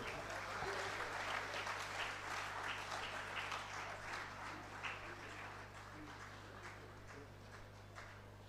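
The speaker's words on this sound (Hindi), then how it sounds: "कृपया सभी लोग इनके लिए तालियां अवश्य बजाएं।" Steady audience applause at a professional society convention's inaugural session in Bhopal, a dense wash of clapping that holds for the full span and eases slightly toward the end.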